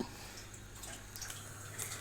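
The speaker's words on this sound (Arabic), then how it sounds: "دي مية اهي بتغلي، دخلت في الغليانة اهي" A pot of water is at a rolling boil on the stove, ready for blanching cabbage. The bubbling is a steady, faint hiss with small pops and gurgles, heard close and alone.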